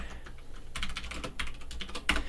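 Clicky keystrokes on a computer keyboard in short irregular bursts, close and fairly quiet, with one sharper keypress near the end and no voices.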